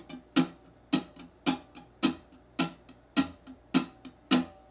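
Muted guitar strings struck with the back of a fingernail in a swing rhythm, about nine sharp percussive chucks in a steady pulse with softer ghost strokes between, close and alone.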